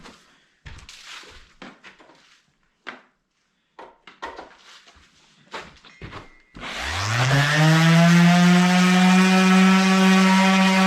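A power sander with 220 grit paper on a figured maple table top. Scattered clicks and handling knocks come first, then the sander motor spins up with a rising whine and runs steady and loud.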